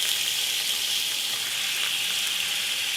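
Octopus sizzles and splashes in hot oil in a kitchen pan, a loud, continuous hissing crackle that stays even throughout with no talk.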